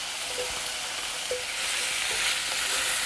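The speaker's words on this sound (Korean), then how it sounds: "숨이 죽을 때까지 잘 볶아주시고요." Pork and bok choy stems stir-fry in a hot pan, a steady crackling sizzle with a few faint scrapes of the spatula, heard up close with nobody talking.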